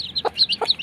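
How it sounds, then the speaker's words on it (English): Indian hen chicks chirping in a home, two short high peeping bursts close by, with a faint broadband call between them. "These are chicks, Indian chicks in our home"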